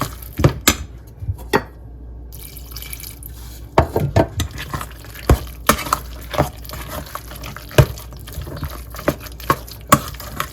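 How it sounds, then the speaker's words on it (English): Flour and water batter for saltfish fritters being mixed in a bowl, with intermittent wet slaps, clinks and sloshing strokes at an uneven rhythm, close to the listener. "You're gonna mix to combine everything together"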